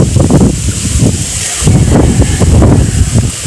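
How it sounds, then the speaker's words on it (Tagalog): Strong wind beside a river at night buffets the microphone in rough, rumbling gusts, loud and close, surging and easing over a few seconds. "Oh, lakas hangin"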